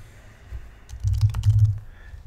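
Someone types an email on a computer keyboard in the Thunderbird mail program: a short, fairly quiet burst of rapid keystroke clicks close by, following a lone tap, with no talking.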